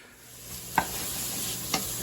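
Bacon frying in a pan while cooking 18th-century New England clam chowder, a steady quiet sizzle with two soft clicks of stirring or utensil contact, no voices.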